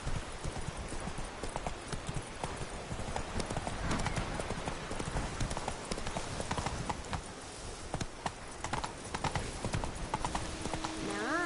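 Hooves of Roach, the horse in the Witcher 3 video game, clip-clop steadily and close throughout, a continuous trotting rhythm over the game's ambient background.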